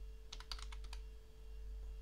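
Quick burst of computer keyboard typing, about eight crisp key clicks over a second, entering a Linux terminal command on Debian 12, close and alone over a steady electrical hum.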